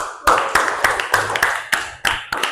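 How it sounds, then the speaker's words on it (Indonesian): A small class claps for a student in a classroom lesson, a few hands beating a steady, loud rhythm of sharp claps, close and alone. "Berikan tepuk tangan"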